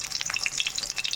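Slit boiled eggs spit and crackle as they fry in hot oil in a pan, a brief close burst of bright sizzling pops.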